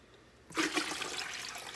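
Apple cider vinegar mixture poured into a bucket from a crock, a sudden steady splashing gush of liquid starting partway through and continuing without pause.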